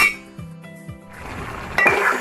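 A spoon scrapes and clinks against a metal pot while mutton gongura curry is stirred on low heat, giving a few distinct knocks and a softer rattling scrape near the end, close and moderately loud with no talk.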